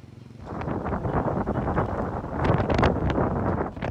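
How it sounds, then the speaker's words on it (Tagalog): Steady roaring wind in Baguio during continuous heavy rain buffets the microphone, rising into stronger gusts midway with rushing, blustery noise throughout. "malakas na hampas ng hangin"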